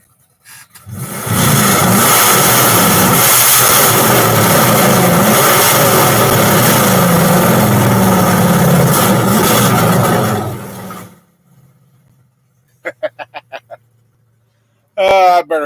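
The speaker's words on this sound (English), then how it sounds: "So that's why the engine stand's got a different motor on." A motor running on an engine stand, a loud steady roar lasting about ten seconds before cutting off, followed by a few short clicks and a brief burst of sound at the end.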